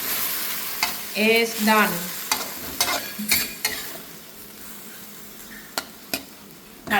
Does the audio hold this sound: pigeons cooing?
no